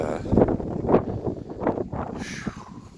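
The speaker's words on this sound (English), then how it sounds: "God, that wind." Wind gusting against the microphone outdoors, a loud, close buffeting rumble that swells and fades over a few seconds.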